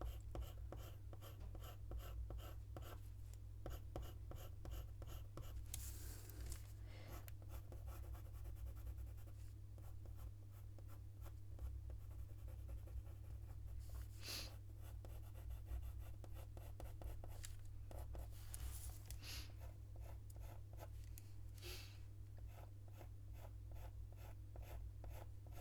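A pencil burnishing a fox eye drawing on paper, giving a steady, faint, close rubbing and scratching with quick repeated strokes and a low hum underneath.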